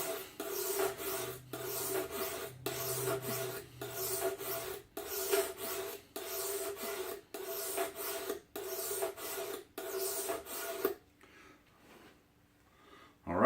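A knife is drawn across an oiled whetstone in about eight even, rhythmic rasping strokes, close and clear, then the scraping stops and near-silence follows.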